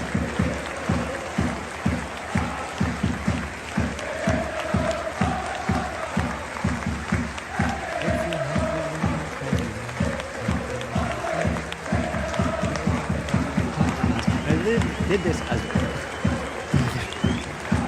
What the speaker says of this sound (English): there was a minute's applause was scheduled at the beginning of the match for the royal family